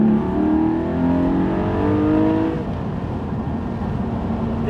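A Porsche 718 Spyder sports car is driven with the roof off, its engine droning steadily and rising slightly, then easing as it settles into a lower cruising hum, heard from inside the car with no talk.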